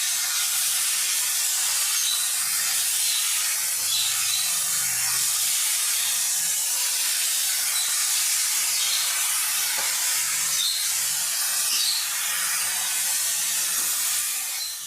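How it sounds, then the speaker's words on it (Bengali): Grated kohlrabi frying lightly in a pan, a steady close sizzling hiss with faint crackles running continuously throughout, no talking. "ওলকপিটা দিয়েও একটু হালকা করে ভেজে নেব।"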